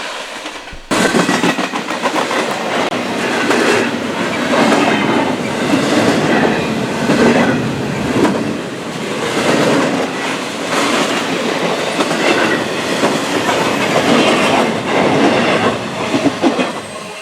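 An eastbound freight train passes close by on the tracks, loud and continuous with rhythmic clickety-clack of wheels on rail joints and occasional wheel squeal, no voices.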